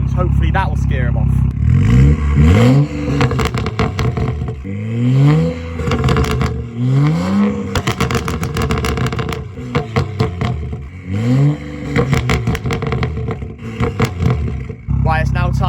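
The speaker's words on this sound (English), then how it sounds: "so now we're going to do pop and bangs" Loud, close revving from a straight-piped BMW N55 exhaust, with sharp crackling pops and bangs scattered between the rising and falling rev sweeps.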